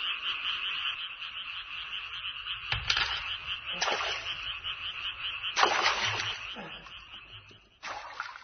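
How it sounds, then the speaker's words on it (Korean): A chorus of frogs croaks by a pond in a continuous, fairly close trilling drone, with several louder, sharper croaks breaking in at intervals. "저 개구리 소리를 어찌하면 되겠사옵니까?"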